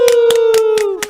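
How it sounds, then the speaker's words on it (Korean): Five sharp, evenly spaced hand claps ring out at a Korean podcast recording, over a loud sustained tone. The rhythmic claps are close and punchy. "박수 한번."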